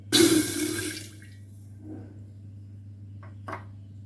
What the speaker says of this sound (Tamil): அரிசியை களைஞ்ச தண்ணி சேர்த்துக்கலாங்க